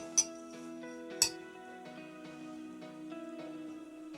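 A small spoon clinks twice against a moka pot or cup while scooping coffee, two sharp bright taps about a second apart over a quiet steady hum, close up.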